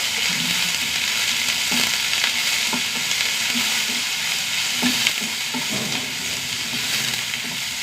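Onion and green chillies fry in a pan with curry leaves, giving a steady loud sizzle and hiss broken by soft clicks of stirring, with no talking.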